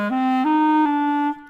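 A clarinet plays three slurred, untongued notes that glide smoothly into one another in a single sustained, clear, close tone before it stops.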